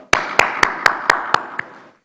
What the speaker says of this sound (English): When there's some good work done, we need to applaud